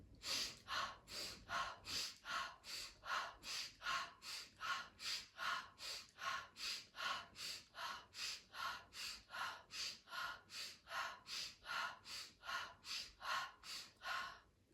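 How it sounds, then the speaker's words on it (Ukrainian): Breathing exercise with rhythmic breaths in through the nose and out through the mouth, roughly two dozen close, steady, evenly paced breath cycles, soft and continuous. "Знову вдих через ніс, видих через рот."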